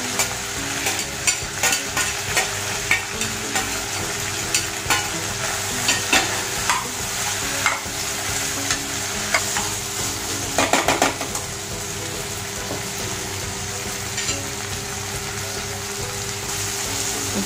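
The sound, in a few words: stirring and frying grated fresh coconut in a pan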